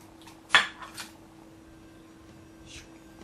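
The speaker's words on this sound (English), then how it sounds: "And you're gonna crack the egg." An egg cracked against a bowl while making a Japanese breakfast with natto: one sharp, close crack followed by a couple of softer taps, then quiet room hum.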